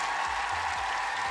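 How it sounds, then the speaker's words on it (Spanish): Applause for a guest on a broadcast programme: a brief, dense burst of steady clapping with a faint crowd murmur and no pauses. "Te mandamos un aplauso,"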